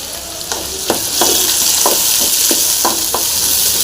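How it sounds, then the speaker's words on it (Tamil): Onions with crushed garlic, mustard seeds and salt fry in a pan, a loud steady sizzle running throughout, broken by several sharp scraping stirs at irregular intervals. "இப்போ வெங்காயம் நல்லா ஃப்ரை ஆகிடுச்சு."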